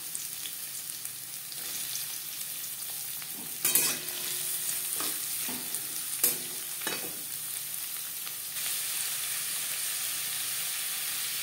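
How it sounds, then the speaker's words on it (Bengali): Chopped onion going into hot mustard oil and frying with a steady close sizzle and hiss, broken by a couple of sharp spatter bursts and scraping stir strokes, growing slightly louder near the end, no voices. "3 চামচ সরষের তেল গরম করে নিয়েছি, দিয়ে দিলাম পেঁয়াজ কুচি।"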